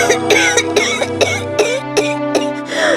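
An ailing mother with chest pain coughs again and again in an animated story, a rapid run of harsh, close coughs with a little throat clearing over soft background music.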